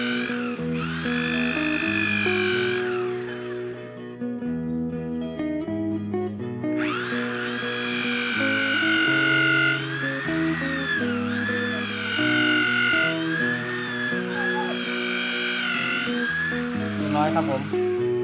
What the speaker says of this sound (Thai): แล้วก็เจาะรูใกล้ๆกันอีกนะครับตัวนึง